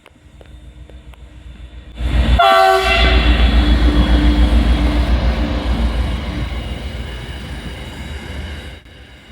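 A DM-class diesel locomotive train rumbles past, close and loud. A long, blaring horn sounds, followed by a steady engine drone and wheel noise that slowly fades.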